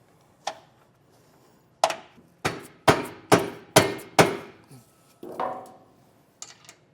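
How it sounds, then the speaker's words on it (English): A dead blow hammer bumps a Curt Class V XD trailer hitch into place on a 2021 Chevrolet: a lone knock, then a quick run of six or so solid thuds and a few lighter taps, close and without talk. "a dead blow and just a little bump will make sure that we get this to drop in"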